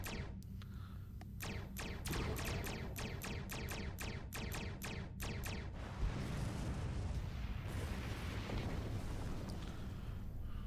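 Explosion of a destroyed Klingon satellite in the space game Star Trek Online: a rapid burst of sharp blasts and pops gives way to a sustained, loud rumbling roar over a constant background hum.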